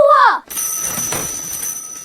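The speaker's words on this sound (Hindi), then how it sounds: "लकड़ी के पोल पर लगे टेलीफोन की अचानक घंटी बजी" A landline telephone mounted on a wooden pole rings loudly, a continuous bright bell ring that follows a brief voice at the start and fills the rest of the moment.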